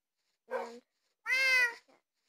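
A cat gives two meows, a short one followed by a longer drawn-out one, close and clear in a quiet room, with a faint trailing sound after.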